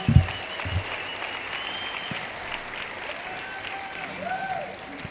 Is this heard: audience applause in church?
yes